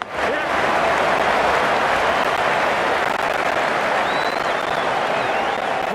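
Cricket crowd at an England versus Australia Ashes match applauding a boundary, a sudden loud wave of clapping and cheering that swells in and holds as a dense, sustained ovation, with a faint whistle drifting above it.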